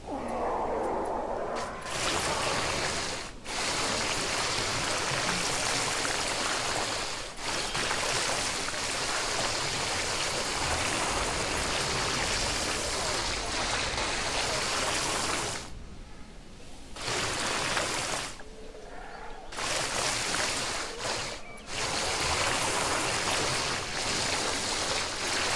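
Rushing water in Jurassic World Evolution, a loud, dense continuous flow with a few brief dips and breaks, heard alone without talking.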